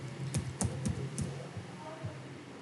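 Typing on a computer keyboard: a short run of distinct, close key clicks in an uneven rhythm, a handful of sharp taps spaced across a couple of seconds.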